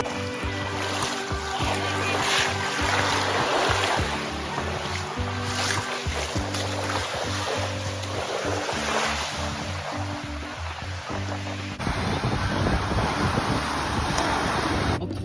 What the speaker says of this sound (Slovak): proste tie vlny sú fest dobré a je tu fest pekne pozrieť